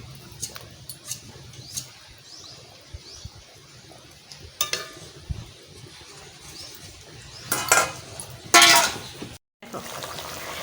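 Eggplant pieces go into a hot pan for a fish curry with potatoes, sending up a sudden loud sizzle and splash after quieter clatter and stirring noises.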